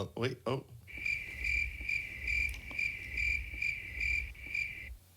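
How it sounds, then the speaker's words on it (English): A cricket trills continuously in a high, pulsing chirp, close and clear, after a few brief sounds at the start. "The crickets are waiting for you."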